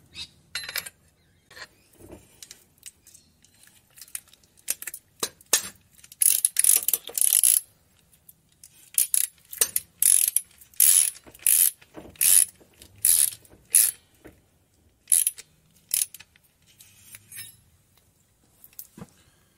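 On a 1995 Holden Rodeo during water pump work, a ratchet clicks in quick bursts with pauses between them as the pulley is pulled over to fit the belt, close and distinct, with occasional small metallic clinks.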